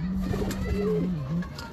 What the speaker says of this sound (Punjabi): ਇਹ ਵੱਡੀ ਕਬੂਤਰੀ ਹੈ ਜੀ